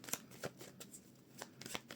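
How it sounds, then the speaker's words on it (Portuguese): Tarot cards being shuffled by hand, a quick run of crisp riffling snaps and soft slides in irregular bursts, close and fairly quiet, with no voice. "Embaralhando muito bem."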